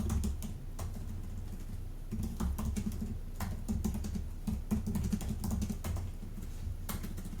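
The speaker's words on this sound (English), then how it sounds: "I'm typing." Fingers tap quickly on a computer keyboard, a dense run of close, crisp clicks in irregular bursts with no talking.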